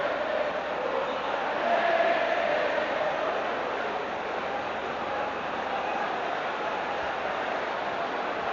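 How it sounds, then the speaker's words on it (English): Stadium crowd at a 1991-92 UEFA Cup quarter-final, Genoa vs Liverpool, keeps up a steady, far-off roar of shouting and chanting with a broad, even wash of noise and no clear speech. "Once again, the shout of Branco comes from the crowd."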